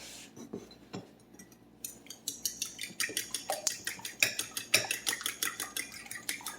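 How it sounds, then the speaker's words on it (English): A utensil beats banana and egg batter in a bowl, a rapid run of scraping clicks against the dish that grows steadier and louder after a few hesitant strokes. "let me mix this up"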